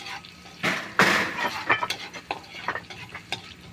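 Garlic and potatoes frying in a pan, with a soft sizzle under repeated scraping and stirring knocks, a couple of sharper clatters early on, close and fairly quiet.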